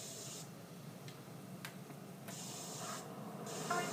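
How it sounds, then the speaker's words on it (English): A spray can hisses as a house is spray painted in GTA San Andreas on PlayStation 2, heard as several bursts of steady hiss with short gaps and faint clicks in between. "I like how he's just letting me spray paint his house."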